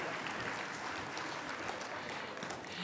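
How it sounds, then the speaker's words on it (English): Applause from an audience at the San Francisco Asian Pacific American Heritage Awards, a dense, even patter of many hands, faint and distant, with no talking. "one more round of applause."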